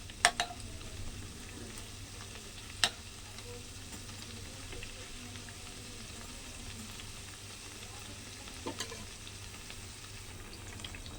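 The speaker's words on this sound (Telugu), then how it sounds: "ఇలా బ్రెడ్ ముక్కలన్నిటినీ ఫ్రై చేసుకున్నాను" Bread pieces frying in oil until golden for a bread halwa (double ka meetha) give a soft, steady sizzle throughout, broken by a few sharp clinks of a utensil near the start and end.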